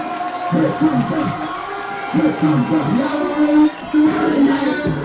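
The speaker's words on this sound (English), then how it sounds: "Chambers crowd's really getting into it." Chambers fans roar and cheer in bursts at a high school football playoff game, a loud crowd with whoops and shouts, and a commentator talks over it.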